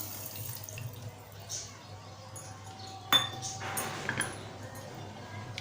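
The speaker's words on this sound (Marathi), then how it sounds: "आता त्यामध्ये आपल्याला अर्धा ग्लास पाणी टाकायचं आहे" Water pours from a half glass into a mixer jar holding cashew apple pieces with salt and lemon juice, a soft splashing trickle with a few clinks of utensils, close by.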